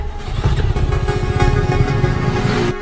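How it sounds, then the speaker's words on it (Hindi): A motorcycle engine running rough and loud, a steady close-up rumble with uneven throbbing pulses that carries unbroken for a few seconds. "अरे इंजन में से बहुत आवाज आ रही है, अच्छे से चेक करना।"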